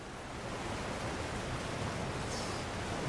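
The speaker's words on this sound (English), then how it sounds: "Just checking behind the waterfall." Steady roaring waterfall inside the video game Elden Ring, a dense, even wash of rushing water that stays loud and unbroken throughout, with no talk over it.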